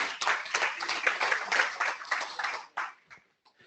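Small company meeting audience claps for a couple of seconds, a thin scattering of hands close to the microphone that quickly trails off into a few last claps and quiet.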